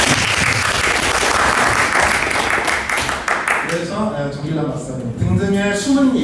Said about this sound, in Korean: 저분한테 박수 한번 주시죠